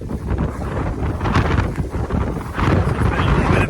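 Wind buffets a microphone during an outdoor run, a loud steady rumbling roar with gusty swells, close and continuous throughout.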